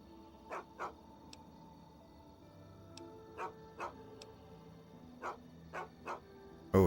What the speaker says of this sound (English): Oh yes, bark, bark, bark.